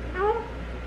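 A pet bird gives a single short meow-like call imitating a cat, fairly close and clear over a quiet room background, lasting well under a second.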